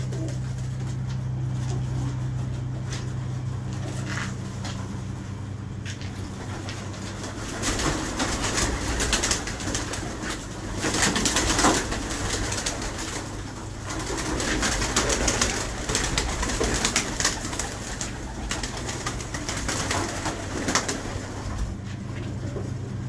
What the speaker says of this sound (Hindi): मैंने दिखाया है कि ये मुबशर से आया ना कबूतर।